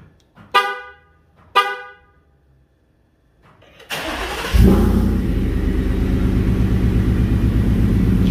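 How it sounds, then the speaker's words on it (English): A Coyote Ford F150 with a new exhaust: two sharp horn toots, a pause, then the starter cranks and the engine catches on a cold morning into a steady, loud, crisp idle rumble up close. "Even in the mornings, the cold starts nice and crisp, and it's not too rowdy on the street."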